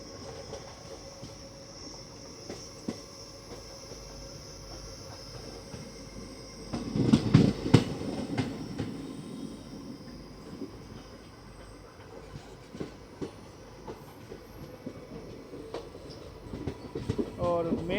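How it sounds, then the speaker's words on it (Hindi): Nandigram Express running on rails near Majri's outer cabin as it diverts from the main line: a steady rolling rumble and rattle of coaches, with a louder burst of clattering wheel noise midway and a faint squeal near the end. "यहाँ से अब हमारी ट्रेन डाइवर्ट होने वाली है"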